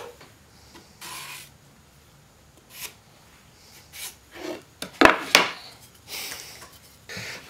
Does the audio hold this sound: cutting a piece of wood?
yes